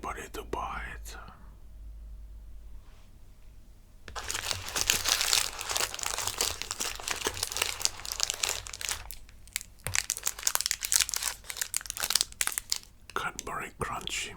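Wrapper of a Cadbury Crunchy Violet Crumble chocolate bar crinkling close to the mic in dense, continuous bursts, alternating with soft whispered speech in a quiet room.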